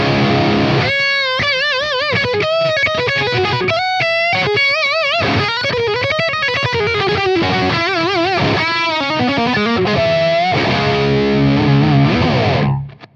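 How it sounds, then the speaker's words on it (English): High-gain electric guitar shred licks played through a Fractal amp model, fast distorted runs with bends and vibrato-laden sustained notes, loud and continuous with no talking. "let's do some heavy shred licks and see how they sound with this higher gain setting."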